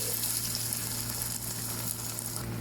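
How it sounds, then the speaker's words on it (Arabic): Fried onion and tomato paste sizzle in a pan as they are stirred together, a soft steady frying hiss with a low continuous hum beneath, fairly quiet and without speech. "الحين أقعد أقلب المكونات مع بعض"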